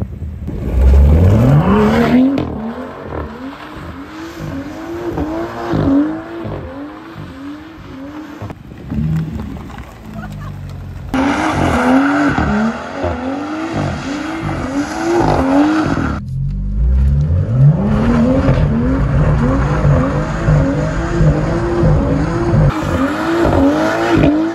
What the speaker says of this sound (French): maintenant les gars, on va faire un petit drift